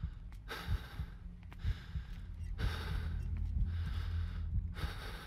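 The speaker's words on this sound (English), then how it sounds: "Why am I breathing so much?" A character in the Call of Cthulhu video game breathes heavily, with loud, close, ragged gasping inhales and exhales repeating in a slow rhythm about every second and a half, with no talk over it.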